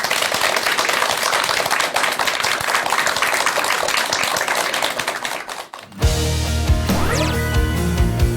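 Dense audience applause fills the room at a Korean lecture on overcoming stress, a thick, loud patter of many hands that stops abruptly, after which music begins.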